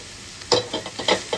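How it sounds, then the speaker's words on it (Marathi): Paneer cubes fry in hot ghee while being cooked for paneer modak. Close, bright sizzling bursts come and go with stirring in uneven pulses, alone without speech. "आपलं तूप गरम झालंय आपल्याला पनीर टाकायचं आहे तुपामध्ये थोडं हलकं आपल्याला पनीरला फ्राय करून घ्यायचं आहे"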